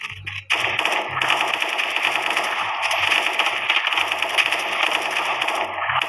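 Dense, rapid gunfire from a pistol and sniper rifle in the Special Forces 2 video game crackles almost without pause after a brief quiet start, with sharp repeated shots layered over a low pulsing rumble.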